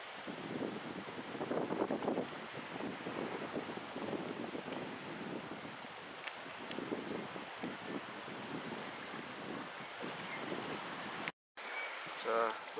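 Gusty wind buffeting the microphone over choppy water on Lake Crescent while paddling, a continuous rough rushing noise with low surges, briefly cutting out near the end; a voice talks faintly underneath.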